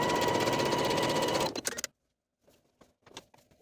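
Sewing machine topstitching the pocket edges of comfy pants, a steady loud motor whir for about a second and a half, then a stop followed by a few faint clicks and handling sounds.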